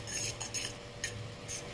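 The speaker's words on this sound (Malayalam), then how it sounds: "ഇനി നമുക്ക് ഇളക്കാം." A spoon scrapes and clinks against a cooking pan while spicy masala is stirred, giving a few soft, close strokes over a low background hum.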